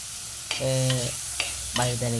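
Okra, green chili and tomato sauté in coconut oil for sambar, with a steady close sizzle and two drawn-out, squeaky scrapes of the spatula against the pan.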